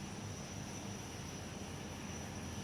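An airliner taxis at Perth Airport, heard as a continuous broadband engine roar with a steady whine, unbroken and fairly distant throughout.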